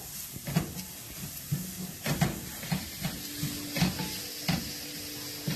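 Onion, pepper and carrot sauté in a pan, a close, continuous sizzle broken by a rhythmic series of scraping stirs roughly every half second, with no talking.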